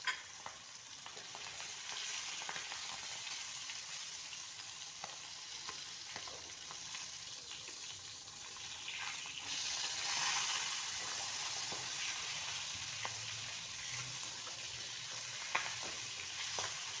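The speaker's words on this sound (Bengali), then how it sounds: "প্রথমেই মাছগুলোকে ভেজে নিচ্ছি। রান্নাটা সরিষার তেল দিয়ে করব।" Boal fish pieces frying in mustard oil, making a continuous, close, crackling sizzle with soft stirring and spatula scrapes throughout, no one talking.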